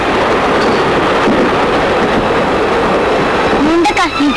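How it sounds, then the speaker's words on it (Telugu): A train pulling away in an Indian film scene, a steady rumbling rail clatter filling the whole clip, with voices talking over it and a brief tonal squeal near the end. "అక్క ట్రైన్ వెళ్ళిపోతుంది"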